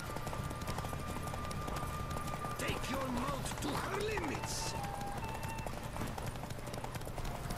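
Horse hooves clip-clopping at speed during a race in The Witcher 3, a steady rapid drumming of gallop beneath continuous game ambience and a speaking voice.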